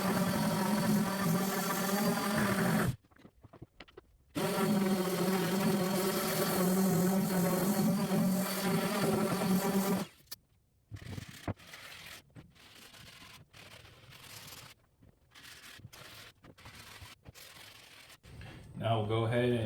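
A wooden picture frame is sanded by hand with coarse-grit sandpaper, a steady raspy scratching in long continuous stretches broken by short pauses, then a quieter, choppier patch of rubbing strokes near the end.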